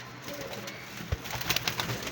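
Pigeons cooing softly in a loft or rooftop coop, a few low murmuring coos rising over a quiet background with faint scattered clicks, no voices.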